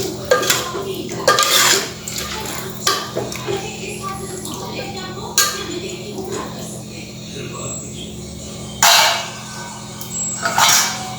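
A spoon scrapes and clanks against a pot while chorizo pork sausage pulao with carrots and capsicum is stirred, in repeated bursts with quieter stretches between and a low background hum.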